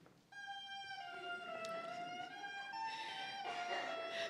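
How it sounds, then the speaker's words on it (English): A bassoonist blows into the bare double reed alone, producing a thin, high, buzzing crow that holds steady with a slight pitch dip, close and fairly loud with no talk. "this is what it sounds like when she blows just into the reed."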